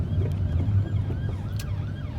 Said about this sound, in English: Got an ambulance coming up here